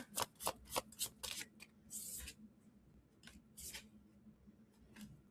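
Tarot cards are shuffled close by in quick, rhythmic papery riffles and flicks, followed by a longer slide and a few softer card snaps.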